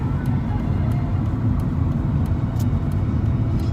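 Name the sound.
car driving on the freeway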